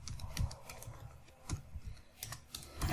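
Code being typed on a computer keyboard, with rapid irregular key clicks in uneven bursts, close and fairly clear, and no voice over it.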